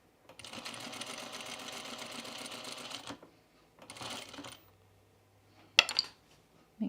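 A sewing machine with a size 14 needle stitches a 1930s-inspired blouse in one long steady burst, then a shorter run, followed by a sharp click or two.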